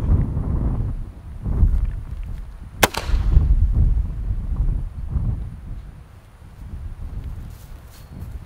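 A 37mm Spikes Tactical Havoc launcher fires a white smoke round outdoors, one sharp sudden report cutting through heavy, gusting wind noise that rumbles throughout.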